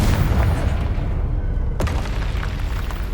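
A Confringo fire spell explodes during combat in the wizarding game Hogwarts Legacy: a single sharp burst partway through, over a constant background of loud battle noise, with no speech.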